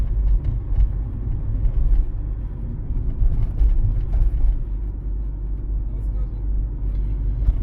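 Car driven at about 35 km/h in the right-hand lane through town on a driving-test route in Pereiaslav, with a steady low engine and road rumble throughout, fairly loud and continuous.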